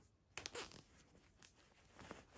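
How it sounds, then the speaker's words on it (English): A zip on a lined fabric pouch is pulled open in short, quiet rasping bursts with small pauses between pulls, close and soft. "Open my zip"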